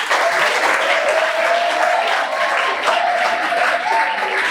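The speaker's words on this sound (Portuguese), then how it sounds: "Uma salva de palmas para vocês" Warm applause from an audience at a talk on juvenile delinquency, many hands clapping in a full, even burst that stays loud and steady for several seconds without voices.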